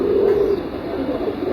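Pigeons coo as they land on a house roof. One close, soft, rolling coo comes first, and a fainter one follows with some background noise and no talking.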